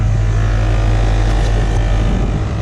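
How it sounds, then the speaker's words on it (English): A John Deere 4450 tractor engine running loud and close, a heavy continuous rumble with a strong low drone and steady noisy roar, no pauses. "Makes one hell of a noise, and it's only this tractor."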